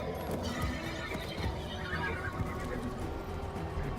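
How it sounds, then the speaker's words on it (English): A horse neighs and whinnies in Warframe over a steady bed of game background noise, the call drawn out and fairly loud. "It's a horse."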